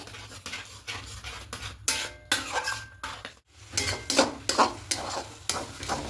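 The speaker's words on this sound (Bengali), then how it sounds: "এখানে দুশো গ্রামের সুজি আছে এবার সবটা খুব ভালো করে মেশাবো" Semolina being stirred and mixed into a dough in a pot, a rhythmic series of scraping, dragging strokes with a faint sizzle underneath and a brief pause midway.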